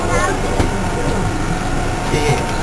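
Steady rumble of a light rail (LRT) train in motion, with constant low-frequency roar and faint background voices over the ride.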